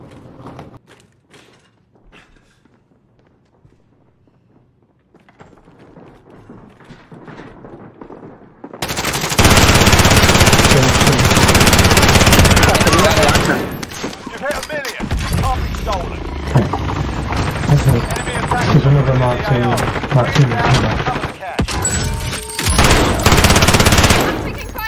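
Heavy automatic gunfire in the Call of Duty Warzone Plunder mode, loud bursts of machine-gun fire and scattered shots rattling nonstop after a quiet opening, with brief voices mixed in.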